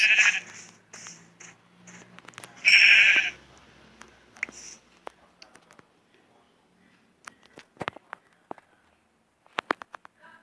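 Sheep in a Minecraft-style video game bleating twice in short cries, followed by scattered soft clicks and taps, with no talking.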